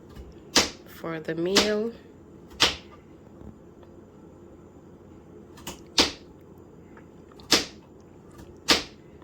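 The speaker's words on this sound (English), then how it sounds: "Jamori is cutting up carrots" Sharp, separate knife chops as carrots are cut for a one-pot meal, six or seven crisp strikes spaced a second or so apart, close and clear, with a short burst of speech near the start.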